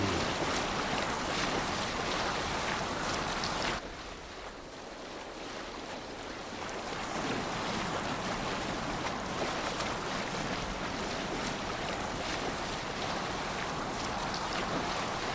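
Viking longship rowed over open ocean waves in Assassin's Creed Valhalla, a constant broad wash of surf, wind and splashing water, briefly dipping before resuming at full strength.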